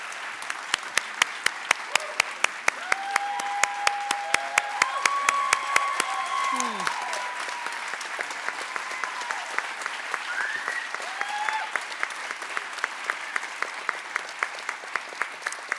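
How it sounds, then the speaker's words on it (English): Warm audience applause fills a theatre at a community kick-off event, a steady wash of clapping with sharp distinct claps close by and voices calling out over it. "a warm round of applause"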